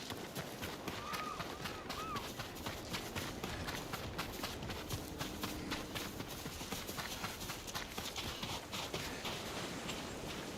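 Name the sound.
horses' hoofbeats in the video game Ghost of Tsushima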